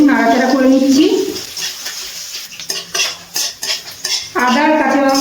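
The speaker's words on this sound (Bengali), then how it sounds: "কাঁচা লঙ্কা আর আদা তেলে একটু নাড়াচাড়া করে নিচ্ছি" Chopped green chili and ginger are stirred in hot oil, with scraping and clinking of a spoon against the pan between stretches of close speech at the start and end.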